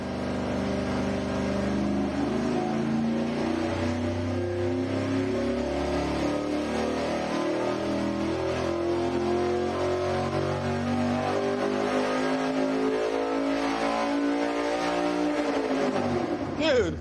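A tuned V8 engine fitted with headers revs hard and steadily on a test stand, a loud, sustained, rising howl that drops off sharply at the end, with talk faintly underneath.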